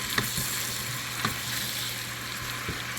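Chicken with paprika being stirred in a pan over low heat: a steady, moderate sizzle with a few soft scraping taps of the utensil, close and without speech.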